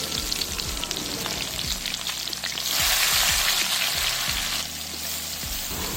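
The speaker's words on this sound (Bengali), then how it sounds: "পেঁয়াজটা এইবারে লাল লাল করে খুব ভালো মতো ভেজে নেব" Chopped onion frying in hot oil spiced with garam masala, bay leaf and cumin, the base for a duck curry. It makes a steady, dense, loud sizzle that swells briefly midway, with no talking.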